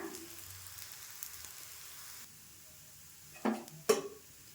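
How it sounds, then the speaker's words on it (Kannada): Akki rotti cooks on a hot pan with a soft, steady sizzle for a couple of seconds. Two sharp metallic clinks of a utensil against the pan follow near the end, and nobody speaks. "ಎರಡು ಸೈಡ್ ಹೊಂಬಣ್ಣ ಬರೋವರೆಗೂ ಒಂದು ಐದು ನಿಮಿಷ ಬೇಯಿಸ್ಕೊಂಡು ತಗೊಂಬಿಡೋಣ"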